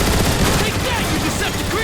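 Gun emplacement turrets firing in the game Transformers: War for Cybertron, a dense continuous burst of loud rapid shots with game noise and possible voices mixed in.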